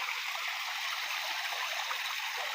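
Water runs steadily from a communal water tank, a continuous broadband rush and trickle with no talk and no breaks.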